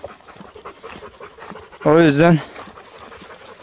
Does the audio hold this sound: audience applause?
no